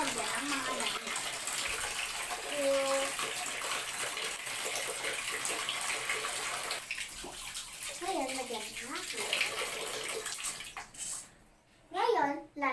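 Water gushes steadily from a tap into a washing tub being filled before laundry, a continuous close rush, with someone talking over it in places and a brief dip near the end.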